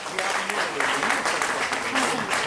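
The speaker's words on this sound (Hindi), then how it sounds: "के लिए जोरदार तालियां एक बार" Loud, steady applause from an audience at a school sports event for World Disability Day in Nagda, India, a dense wash of clapping lasting the whole moment with some voices mixed underneath.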